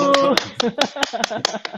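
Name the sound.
clapping during an interview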